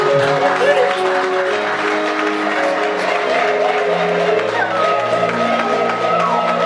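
Church congregation applauding and cheering during an apostle's ministerial consecration service, a sustained crowd clapping with a few whoops beneath music and voices, steady and close throughout.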